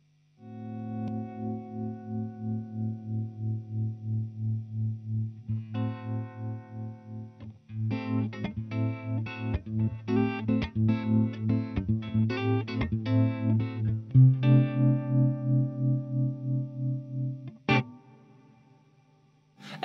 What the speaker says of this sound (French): Alors ça c'est le trémolo harmonique du coup